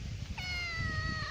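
A single drawn-out cat meow, clear and fairly close, rising then sliding slowly downward over a low background rumble.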